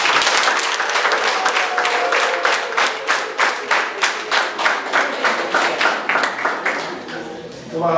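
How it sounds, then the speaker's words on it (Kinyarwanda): Loud crowd applause welcoming two families entering the Mutsi sector during a church gathering, a dense wash of many hands clapping with steady rhythmic pulses throughout. "Rero ndagira ngo mumere amashyi iyi miryango ibiri imaze kwinjira mu murenge wa Mutsi."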